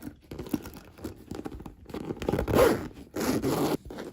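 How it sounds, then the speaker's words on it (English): Repeated zipper runs on a Louis Vuitton Speedy B 25 Damier Ebene handbag, close and crisp, several long rasping pulls back and forth with short pauses between them. "The zippers both kind of feel the same, opening and closing"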